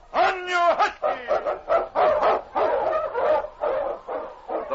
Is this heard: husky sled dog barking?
yes